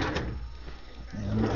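The deep file drawer of a cedar chest desk sliding open, a brief wooden rumble and scrape that ends with a low thump, heard alone.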